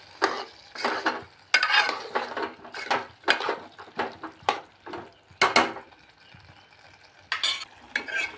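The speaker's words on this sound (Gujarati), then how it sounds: "આની અંદર આપણે પહેલાં ટમેટાં નાખી અને હલાવી નાખીએ" Tomatoes are stirred into a simmering ridge gourd curry in a pan, with repeated scraping strokes of a spoon arriving in uneven bursts, close and fairly clear, with a soft sizzle between them.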